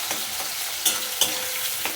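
New potatoes and capsicum sizzle steadily in a frying pan for an aloo dum, with a few sharp stirring scrapes and clacks standing out above the continuous hiss.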